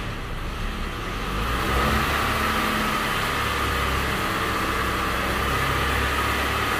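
Citroën C3 engine revved up from idle, a close, steady mid-pitched engine drone that rises in level after a second or two and holds there, with no talk over it.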